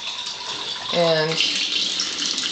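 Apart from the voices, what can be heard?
water pouring from two water ionizers at fast flow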